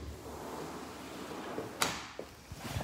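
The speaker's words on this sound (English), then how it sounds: "patio door out into the garden." A house's patio door leading out to the garden slides open with a single sharp clack and a couple of softer knocks and rattles, fairly close against a quiet room.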